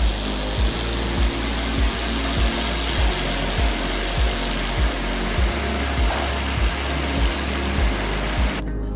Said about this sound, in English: Welding thicker stainless steel three-way pipes is very easy.